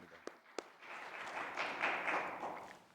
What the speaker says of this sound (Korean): 우리 성가대에서 박수하겠습니다